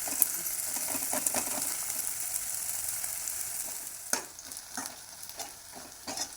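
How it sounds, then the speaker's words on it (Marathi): Chopped onion sizzles in hot oil in a pan, a steady bright frying hiss broken by scraping stirs that grow more frequent in the second half, close and fairly quiet, with no talking. "नंतर कांदा टाका कांदा छान परतून"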